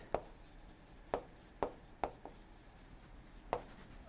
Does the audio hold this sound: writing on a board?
yes